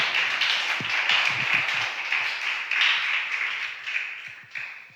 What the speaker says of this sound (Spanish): Dale un aplauso, anímame a predicar, hermano